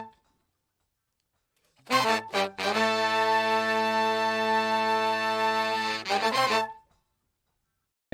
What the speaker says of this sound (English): So here I have a horn loop, which is like a horn section, and it sounds like this.